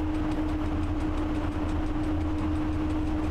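An SM42 diesel locomotive running at full throttle with a short freight consist in Train Driver 2, a steady low engine drone with a constant mid-pitched hum, loud and unbroken with no talking.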